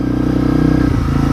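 A Honda CRF250L motorcycle rides through snow, its engine running steadily and loud with a continuous rumbling tone that dips briefly near the end as the throttle changes.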